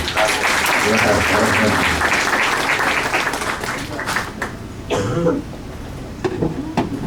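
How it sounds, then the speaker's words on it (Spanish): Loud audience applause greeting a speaker at a legal seminar, thick clapping that fades out after a few seconds, followed by a cough and scattered noises in the room. "Vamos a darle el uso de la voz y le recibimos al maestro José Antonio Bermúdez Madrid con un fuerte aplauso."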